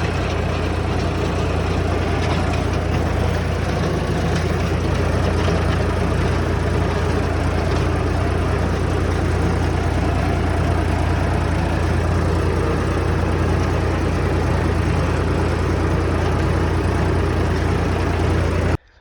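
Tractor engine idling on a farm, a steady low rumbling drone that holds unchanged and loud for nearly twenty seconds before cutting off abruptly, with no talking over it.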